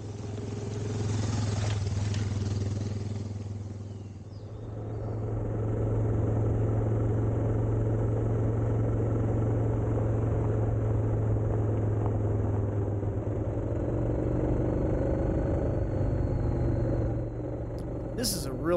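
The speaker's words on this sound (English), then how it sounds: "On a motorcycle, I can kick it up to about fourth gear and just ride it out." A motorcycle rides along a twisty paved road, its engine a steady low drone that dips briefly and then holds a constant rumble, close and continuous, with wind noise over it.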